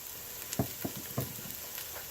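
Onions and garlic frying in olive oil in a pan make a steady sizzle, with a few soft stirring knocks and scrapes close by.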